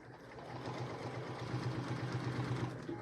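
A sewing machine runs steadily, stitching through layered chenille quilt panel fabric with a low, even motor hum and rapid needle rhythm, close by and without talk.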